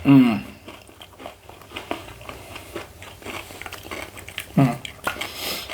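Crunchy bites into candied jalapeños, also called cowboy candy, close to the mic: a sharp crunch at the start, then scattered chewing and crackles, with brief voices at the beginning and near the end.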